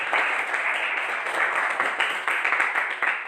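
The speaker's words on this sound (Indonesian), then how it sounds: "Tepuk tangan untuk kelompok 1." Classroom applause for a student group during a teaching practice session, a dense steady patter of many hands clapping at once, fairly close and continuous for the whole stretch with no talk over it.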